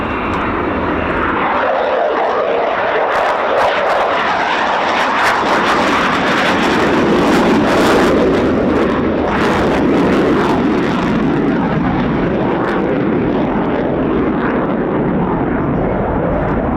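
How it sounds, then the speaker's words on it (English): A Dassault Rafale N, the single-seat navalised carrier-borne jet of the French Naval Air Arm, roars past with undercarriage down at an air show, a loud sustained jet howl swelling and holding throughout without a break. "the single-seat Rafale N model, the navalised carrier-borne version used by the French Naval Air Arm"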